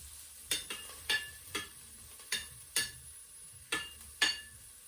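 A spoon mixing salted yogurt sauce in a bowl, sounding as a run of about nine evenly spaced, crisp scraping clicks, close and moderately loud, with no voices.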